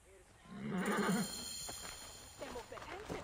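A mare whinnies in Assassin's Creed Origins, a short rising neigh heard over a voice talking in the foreground, followed by quieter scattered sounds and more speech.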